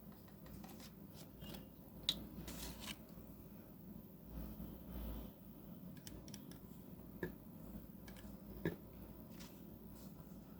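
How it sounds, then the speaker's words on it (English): A Kanwrite Desire 35 eyedropper fountain pen with a medium flex nib, filled with violet ink, scratches softly across paper in steady strokes, faint and close with a few small ticks over a hissy room background. "And now I'm going to give the writing sample of this pen for today's writing."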